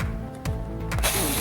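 Screws driven into a chassis stiffener on a Losi Super Baja Rey 2.0 RC truck, a close series of short ratcheting clicks and mechanical whirs in uneven bursts, with no talking.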